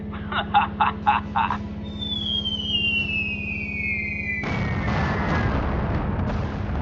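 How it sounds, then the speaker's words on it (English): In a B-17 bomber video game, a long descending whistle of falling bombs drifts over a steady engine drone, then gives way to a continuous roar of rumbling explosions. A few short tones sound at the start. "Sir, we are ready to drop the bombs."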